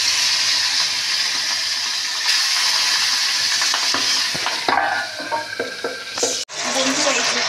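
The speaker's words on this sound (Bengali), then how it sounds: "মাছগুলো নুন, হলুদ, তেল দিয়ে মাখিয়ে রেখেছিলাম, প্রচণ্ড ফাটবে" Boal fish pieces rubbed with salt, turmeric and oil hit hot oil in a wok, a loud, dense sizzle with sharp spattering pops and clinks, ending in a sudden drop as the pan is covered.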